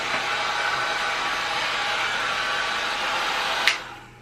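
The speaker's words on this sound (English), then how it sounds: "All right, we got little Amari's hair blow dried all up" Kids' hair dryer blow drying a child's hair, a steady close airy whoosh that holds for about three and a half seconds before a click and a quick wind-down.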